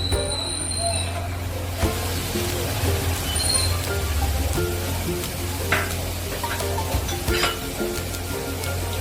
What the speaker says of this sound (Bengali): পেঁয়াজগুলো হালকা ব্রাউন কালার এসে গেছে, ফ্রাই হয়ে গেছে।